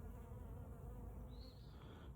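Honey bees buzzing around an open hive during an inspection, a steady, faint droning hum with one bee passing briefly closer, no voices.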